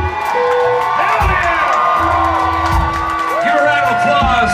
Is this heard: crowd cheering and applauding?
yes